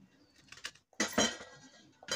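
A knife cuts through jackfruit in a few short, crisp strokes, close and fairly loud, with small clicks of the blade against the cutting surface and a brief pause between strokes.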